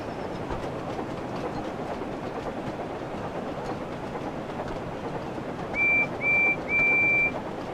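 In a Thomas & Friends video game, a train rolls steadily along the rails with a constant rumbling rush. Near the end, three short bursts of whistle sound.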